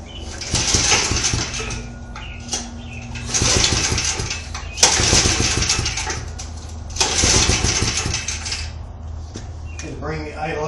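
A Yerf-Dog go-kart engine is pulled over repeatedly in bursts, sputtering and catching briefly between gaps with clanking handling noises, then settles toward a rough idle at close range.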